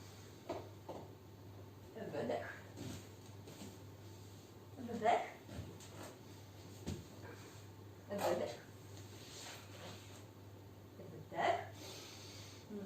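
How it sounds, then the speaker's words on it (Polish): Slow, deep breaths come from a person during a yoga sun salutation. Faint, airy inhales and exhales recur about every three seconds in a quiet room. "Pamiętamy o głębokim oddychaniu."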